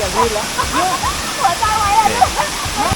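Constant rushing roar of a nearby waterfall, Salat Dai Waterfall in Nakhon Nayok, Thailand, with someone talking over the heavy water noise throughout.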